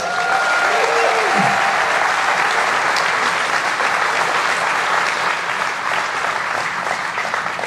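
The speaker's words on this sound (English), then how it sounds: "Let's please give them all a round of applause." A large audience at a city State of the City event gives a sustained round of applause, loud and dense throughout, with faint crowd murmur mixed in.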